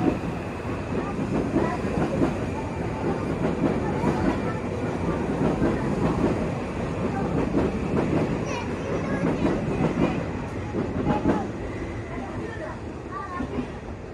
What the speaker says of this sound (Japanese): 西武新宿線来ましたね。 あとラビューが来ました。